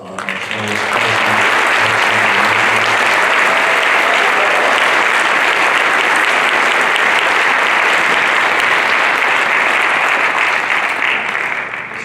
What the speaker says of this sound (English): We have another round of applause for our soloists.